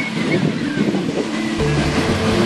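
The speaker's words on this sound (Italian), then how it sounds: "guarda qua che bel vento che c'è." Strong wind on a beach in Tenerife buffeting the microphone with a roaring, gusty rush, loud and close, over a low rumble.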